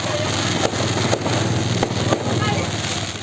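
Dense, continuous crackling bursts of firecrackers going off at a Christmas and New Year celebration on an island, with sharp louder pops standing out against a constant roar of noise.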